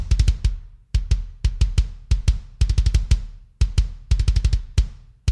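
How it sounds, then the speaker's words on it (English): Three free plugin kick drum samples layered into one punchy, close and loud kick, hit in fast metal-style bursts and double-kick runs with short gaps between groups. "When we blend all 3 of the kicks, we get a sound like this."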